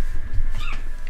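A house cat gives one brief meow close by, loud and steady against a constant background hum.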